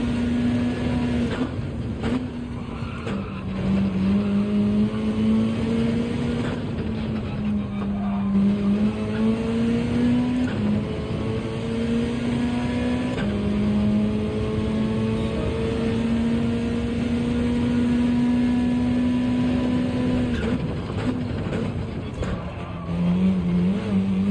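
Mitsubishi Lancer Evo race car in Gran Turismo on a circuit, its engine droning steadily near and loud throughout, with pitch climbing and dropping through gear changes and occasional tire squeal, no talk.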